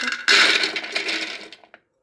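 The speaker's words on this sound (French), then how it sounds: "Là, je commence par hacher les amandes à part." Almonds being chopped make a loud, continuous grinding rattle that starts abruptly and runs for about a second and a half before cutting off.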